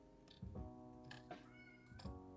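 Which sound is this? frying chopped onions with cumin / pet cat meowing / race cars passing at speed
pet cat meowing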